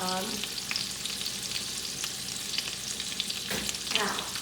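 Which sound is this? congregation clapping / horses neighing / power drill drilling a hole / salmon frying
salmon frying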